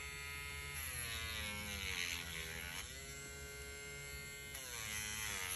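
A Dremel rotary tool whines steadily as it buffs baked and cooled polymer clay earrings, a continuous high-pitched motor hum with slight pitch dips as the piece is pressed against the buffer, no talking.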